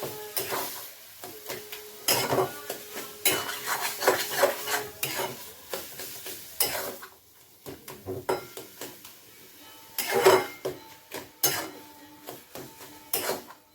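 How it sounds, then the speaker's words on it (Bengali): Shrimp filling is stir-fried in a pan, with repeated scraping and stirring strokes of a spatula against the pan over a soft sizzle, steady and close. "চলুন এটাকে একটু ভালো করে ফ্রাই করে নিই।"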